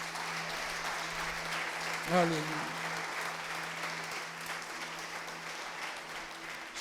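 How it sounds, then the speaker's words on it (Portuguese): A church congregation claps in praise during a sermon, a steady spread of applause throughout, with a voice crying out briefly partway through. "Você pode aplaudir o Senhor por isso?"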